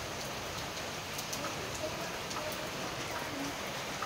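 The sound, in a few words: heavy rain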